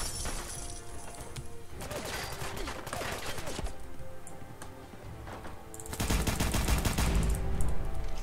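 Weapon fire from the Zappah mod in Fallout 4, bursts of rapid crackling shots that swell louder toward the end over game noise.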